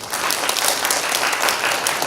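A church congregation at a Wednesday worship service breaks into dense, loud applause, many hands clapping together in a steady wash that fills the whole moment without pause.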